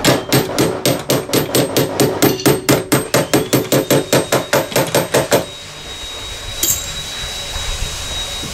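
Rapid, evenly spaced hammer blows knocking out dents in a Ford Edge door panel, about two dozen sharp metallic strikes in a row, then a pause with faint workshop noise and a brief clink.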